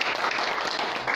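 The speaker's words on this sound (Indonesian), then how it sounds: "Makanya tepuk tangan untuk upline." Dense, steady applause from an audience, a brief burst of clapping with no voices over it.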